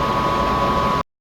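Office air conditioning hums as a steady, even hiss with a faint tonal whine, continuous and close, then cuts off abruptly into silence.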